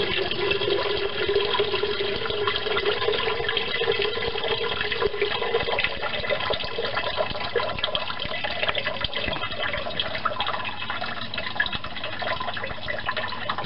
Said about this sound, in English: that's why I normally drain the water into the sump.